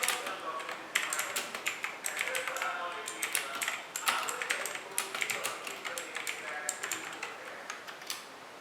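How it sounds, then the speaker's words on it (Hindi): Rapid clicky keystrokes from an HP GK320 mechanical keyboard with blue switches, typed steadily and close up, with dense irregular clacks running throughout. "and here is a small clip of typing sound of this keyboard"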